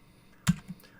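A single keystroke on a computer keyboard, one sharp close click followed by a faint softer tap, in a quiet room.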